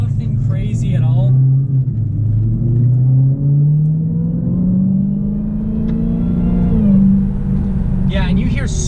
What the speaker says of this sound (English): you hear so much supercharger whine with that